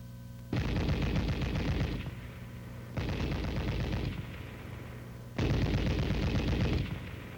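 An M73 7.62mm coaxial tank machine gun fires three long, loud sustained bursts, each a rapid continuous rattle lasting over a second, separated by short pauses with a low background hum.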